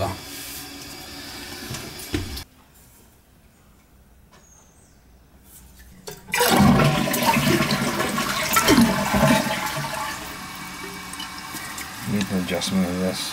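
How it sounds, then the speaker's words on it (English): A toilet that leaks at the floor flushes with a loud rushing surge of water after a quiet pause, then the tank refills with a steady hiss and gurgle nearby. "You want to go in there and give it a flush?"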